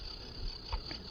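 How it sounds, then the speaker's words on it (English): Cicada buzz played from a children's sound book about nocturnal animals, a short steady high-pitched electronic drone with faint handling bumps underneath. "let's hear the cicada"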